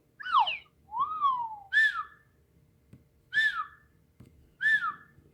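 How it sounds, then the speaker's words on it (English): Slide whistle playing a handful of quick swooping glissandi, rising and falling tones in separate short bursts against quiet background. "Oh, there's like a slide whistle."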